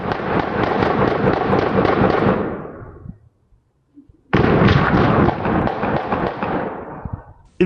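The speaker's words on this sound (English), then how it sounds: "More than 40 gunshots can be heard." A rapid burst of dozens of gunshots erupts on surveillance footage as a dark-colored Kia Soul drives by, a dense loud volley that breaks off, pauses in near silence, then resumes for a second long barrage.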